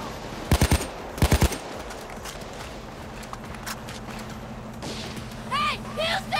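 Gunfire in the video game Payday during the Hoxton Breakout heist: two quick bursts of automatic fire ring out close by, then a low ambient rumble follows and voices shout near the end.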